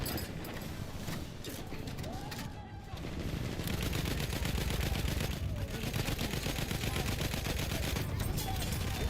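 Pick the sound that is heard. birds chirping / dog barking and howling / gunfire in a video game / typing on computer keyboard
gunfire in a video game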